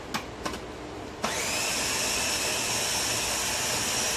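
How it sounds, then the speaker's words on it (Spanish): A blender roars on after a couple of light knocks, grinding pumpkin cream soup in a loud, steady whine that runs to the end. "Así que vamos a moler a ver."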